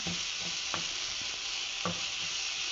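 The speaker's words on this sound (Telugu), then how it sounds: "యాడ్ చేసి బాగా వేగనివ్వాలండి" Ginger garlic paste fries in a pan for palak paneer, a steady quiet sizzle with a few light scrapes and taps from a stirring spoon.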